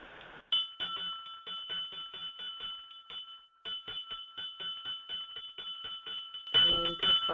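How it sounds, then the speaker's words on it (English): A bell rings at the close of a guided meditation in a long run of quick, clear, repeated strikes with a bright ringing tone, growing briefly louder in a final burst. "The bell will be ringing soon."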